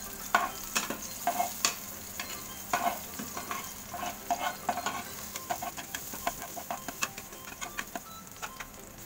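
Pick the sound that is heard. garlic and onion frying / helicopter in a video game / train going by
garlic and onion frying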